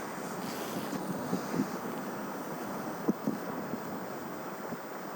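Storm wind roars steadily at the Black Sea coast, a dense broadband rush of gusts and crashing waves with occasional thumps of buffeting against the microphone and no voices.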